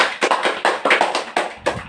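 A group of children applaud in a classroom, about eight sharp, rhythmic bursts of clapping close by over a couple of seconds, with no voices.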